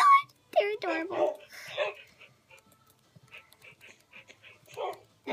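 Puppies in the Minecraft game yip, bark and whimper in short bursts, interleaved with a person talking over them and quieter gaps between the sounds.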